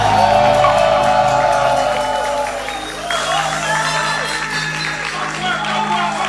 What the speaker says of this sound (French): Oui, plus d'applaudissements pour lui